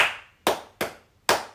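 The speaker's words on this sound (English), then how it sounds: "That's when I clap." Four sharp hand claps in a dance routine, crisp and close, spaced unevenly about half a second apart, each with a short decaying tail and no other sound around them.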